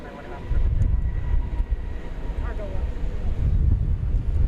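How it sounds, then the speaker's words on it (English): An American Airlines Airbus A320 arriving at DFW Airport roars steadily from a distance beneath wind buffeting the microphone, a low sustained rumble that swells slightly as it passes. "Another international arrival, this one from Oaxaca in Mexico, an Airbus A320 American Airlines."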